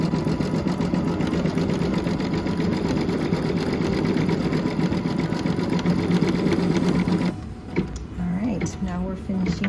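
A Baby Lock Altair embroidery machine stitching an appliqué, giving a steady close mechanical whir with fast rhythmic needle chatter that stops abruptly near the end and leaves softer handling noises.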